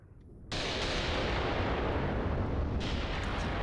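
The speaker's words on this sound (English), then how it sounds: "There's our barrage there." An artillery barrage lands in Graviteam Tactics. After a brief lull it bursts into a dense, continuous roar of rumbling detonations that stays loud to the end.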